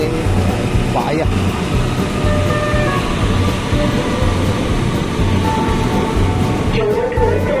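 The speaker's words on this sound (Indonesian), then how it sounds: "Jalur 2 kereta api Jakarta melintas langsung" A commuter train runs straight through Bekasi station on a rainy Monday morning, a steady loud rumble of wagons filling the platform with rhythmic clatter, a brief horn-like tone near the start and station announcements and chatter mixed in.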